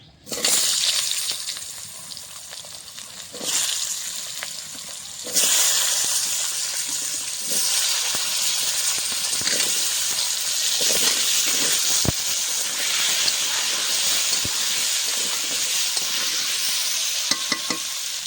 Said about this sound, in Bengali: মাছের ঝোলের জন্য আমি এখন আলুটা ভেজে নেব।